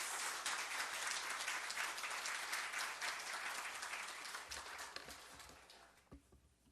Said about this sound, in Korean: 우리 격려하면서 박수로 환영해 주시기 바랍니다